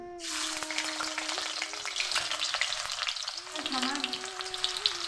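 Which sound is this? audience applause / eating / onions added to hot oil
onions added to hot oil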